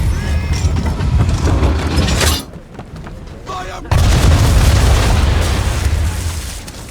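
Ship cannons from Assassin's Creed 3 fire in loud heavy booms, a rolling barrage with a short lull before another thunderous volley, close and dominant in the game mix.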